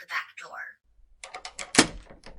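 A lock being picked on a back door: a series of small metallic clicks and taps, with one sharper knock, follows a brief voice-like sound at the start.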